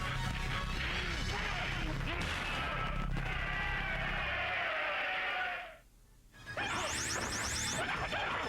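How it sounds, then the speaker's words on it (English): Objects shattering in the Test Your Strength bonus game of Mortal Kombat: loud, dense crashing and whacking bursts fill the stretch, a brief near-silent gap, then another bright smashing burst with a rising chime-like sweep. "win bonus points by smashing progressively harder objects"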